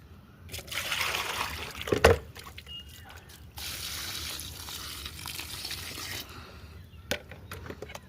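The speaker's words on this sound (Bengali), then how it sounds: "এবার জল দিয়ে দাও।" Water poured onto a freshly planted potted plant, two splashy stretches of trickling and soaking into soil separated by a short pause, fairly close.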